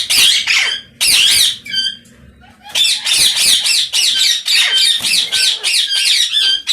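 A breeder pair of long-tailed birds squawks loudly and close, harsh calls coming in rapid repeated bursts with a brief pause in between.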